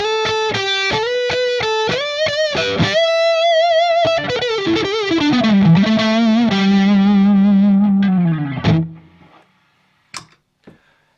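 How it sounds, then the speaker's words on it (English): A Boss SD-1 Super Overdrive guitar pedal drives an electric guitar through a run of picked notes and sustained bends, loud and gritty with a warm saturated edge, before the playing stops and fades out, followed by a couple of faint clicks. "Now here's the Super Overdrive compared to the two others."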